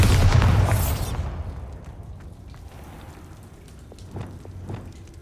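A Bombarda blasting spell in Hogwarts Legacy bursts with a loud, sharp explosion up front, then fades into crackling debris and scattered small pops and patters.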